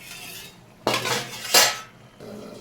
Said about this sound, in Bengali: দিয়ে দিচ্ছি ঢাকা